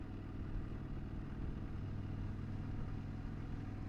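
Steady, close engine drone of motorcycles riding together on a road in France, a continuous low rumble with wind noise and no break in the sound.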